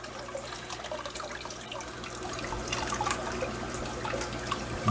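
Water splashing steadily from a filter, a continuous close wash of trickling and dripping with no pauses.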